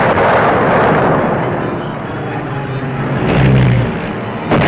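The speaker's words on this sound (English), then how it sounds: "Using some old German battleships as targets, Billy Mitchell showed what precision bombing could do." Bomb blasts from precision bombing of old German battleships used as targets, in archival footage: a loud, continuous rumbling roar of explosions that swells and ebbs, with a heavier low boom near the end.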